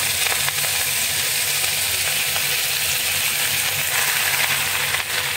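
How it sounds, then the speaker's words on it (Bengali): Kharkol leaves frying in hot oil, a steady dense sizzle and hiss that stays loud and close throughout, with no voices over it. "খারকোলের পাতাগুলো সব এই তেলে দিয়ে দিলাম।"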